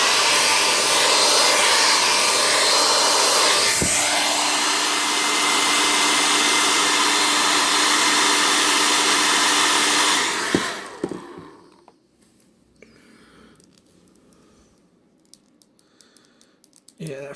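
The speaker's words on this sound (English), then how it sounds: "So we're going to take a hairdryer, see what we can come up with." A hair dryer heats a Hiya Toys 1:18 scale Bane action figure, a loud steady blowing roar lasting about ten seconds before it cuts off, leaving quiet handling noises behind.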